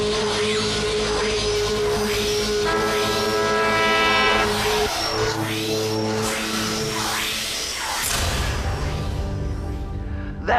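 A staged imitation of an elephant being electrocuted: a dense, loud mix of buzzing electrical tones, rumbling low noise and harsh bursts, with a sharp crackling surge near the end.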